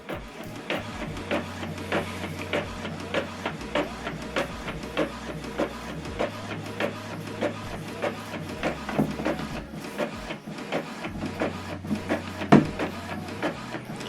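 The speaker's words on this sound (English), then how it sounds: "It's printing double-sided color." An Epson printer printing a double-sided colour document: a steady, close mechanical rhythm of rapid feed ticks over a low motor drone that steps up and down in pitch as the paper moves through.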